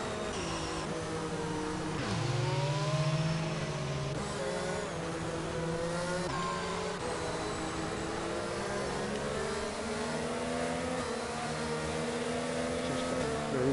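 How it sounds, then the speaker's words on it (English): An Alfa Romeo Formula 1 car in a racing video game, its engine droning and whining steadily as revs rise and fall through gear changes, continuous and fairly loud with no talking. "With a horrible sounding Alfa Romeo."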